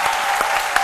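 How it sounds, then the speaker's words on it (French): A television studio audience on a midday talk show applauds a guest, a brief burst of dense, even clapping heard alone. "Et je voudrais qu'on puisse encore une fois l'applaudir."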